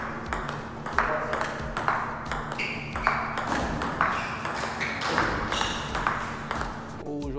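Table tennis rally with quick, evenly spaced clicks of the ball striking paddles and bouncing on the table, sharp and close, with a faint voice murmuring in the background.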